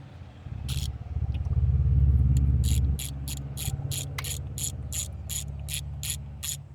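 A socket ratchet tightens bolts during a truck repair, clicking in a fast, even series of sharp pawl ticks over a low mechanical hum, close up with no talk.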